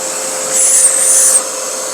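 A Bosch GAS workshop vacuum cleaner runs with a loud, steady, high whine close by, its pitch swelling briefly in the middle before settling.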